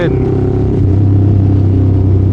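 Yamaha MT-07-style motorcycle engine rumbling steadily in traffic, a loud close drone with a slight rise in revs partway through, heard alone without talk.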